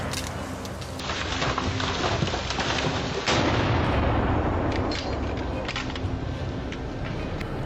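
A rifle fires while hunting wild boar along a wheat field road, with a loud sharp report and a rumbling outdoor tail and wind-like noise around it.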